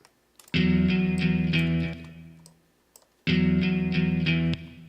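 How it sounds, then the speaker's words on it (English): Two sustained chords on an instrument run through a wet reverb effect, each swelling loud and then decaying into a lingering tail, with a short gap between them and no talk. "that's the wet, that's the reverb"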